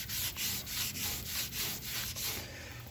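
The bed surface of a 1978 GMC truck is scuffed by hand in about seven even, rasping strokes. The strokes are close and loud, heard alone, and ease off slightly at the end.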